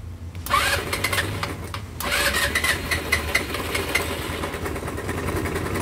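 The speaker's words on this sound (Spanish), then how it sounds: "Más que ya se oye feíta esta moto" A motorcycle with a faulty starter button cranks and catches, then settles into a steady, slightly rough idle close by, with no talking over the running engine.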